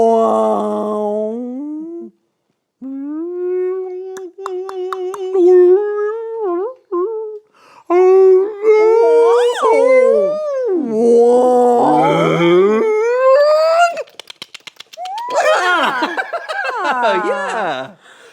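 A person imitates whale calls with long, gliding vocal moans, groans and wavering squeals, some rising and falling in pitch. The voice is loud and close and continues for most of the stretch with brief pauses.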